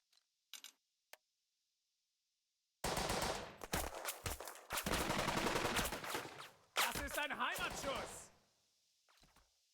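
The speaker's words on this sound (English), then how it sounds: "There must be some more machine gunners around here somewhere." Bursts of machine gun fire from the World War II leadership RPG Burden of Command start a few seconds in as loud, dense volleys that stop and start again, after a few faint clicks and a quiet opening.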